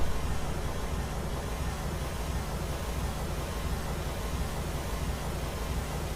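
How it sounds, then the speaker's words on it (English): A steady, dense wash of pseudo-random pink noise plays as a loudspeaker test signal, loud and unbroken throughout with no audible variation or talk. "this is called pseudo-random pink noise"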